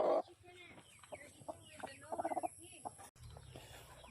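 Chickens at a native chicken farm cluck in short bursts close by, including a quick run of repeated clucks, with farmyard ambience between calls.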